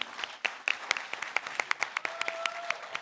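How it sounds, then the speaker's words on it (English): Scattered, fairly sparse clapping from an audience at a Bharatnatyam arangetram dance recital, honoring the orchestra musicians; individual claps stand out in an uneven rhythm, with a faint sustained tone late in the clip. "So a big round of applause for our amazing orchestra team."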